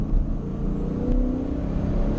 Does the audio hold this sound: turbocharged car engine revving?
yes